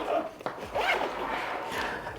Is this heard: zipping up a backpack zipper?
yes